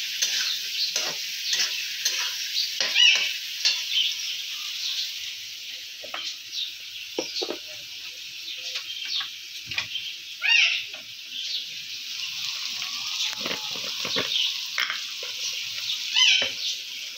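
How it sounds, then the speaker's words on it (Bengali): Onions frying in a pan with a steady, close sizzling hiss, broken by intermittent stirring scrapes and occasional louder pops over about seventeen seconds, with no talking. "এবার আমি পেঁয়াজটাকে বেশ ভালো করে একটু ভাজবো।"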